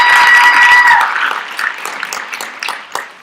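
An audience at a United Nations youth-led briefing applauds the panelists, a dense burst of clapping that swells at first and then thins into scattered claps.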